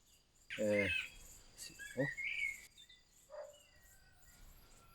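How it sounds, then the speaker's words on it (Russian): Birds chirp and call in short bright bursts, fairly close, with faint insect-like trills and quiet background in between. "Послушайте, как поют птички."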